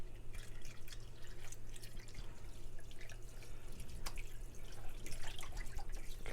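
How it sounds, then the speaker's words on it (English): Water from a tap splashes and drips while a meat cavity is rinsed for homemade bacon, with faint irregular trickling and splattering in a quiet room. "we're going to make sure that we get the cavity rinsed out really well"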